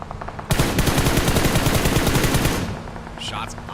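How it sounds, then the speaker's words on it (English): Rapid automatic gunfire bursts in the mobile battle game PUBG Mobile on the desert map Miramar, loud and sustained for about two seconds, then fading into quieter game sounds with faint voice chatter. "Shots on the road here"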